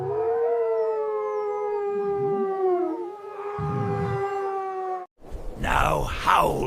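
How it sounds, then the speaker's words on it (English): Animated animal characters in a 3D animal video game howl along with a song, long wavering howls rising and falling, then a brief louder burst at the end. "Now howl with me."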